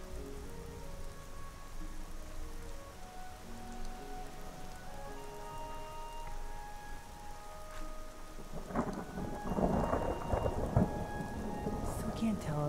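Steady rain pours in a Skyrim game scene, heard up close as constant hiss and patter, while rolling thunder swells into a heavier rumble near the end; no one speaks.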